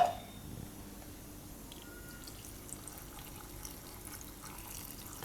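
Water is poured onto cashews in a bowl to soak them for a paste, a faint, steady trickle heard alone.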